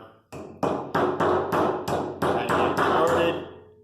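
A series of about nine sharp hammer taps driving a bearing seal into a brake assembly, evenly spaced and close, ringing briefly after each strike.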